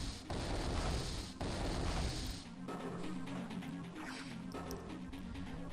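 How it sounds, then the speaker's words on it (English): Black cannons fire in the Advance Wars II strategy game, a dense burst of booming artillery-like blasts that fades into a rumbling, crackling tail of smaller explosion sounds. "Black cannons are about to fire at everything."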